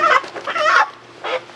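Chickens cluck near kill cones on a farm, several short close clucks and squawks in quick bursts with a brief pause before a final call, over faint background hum.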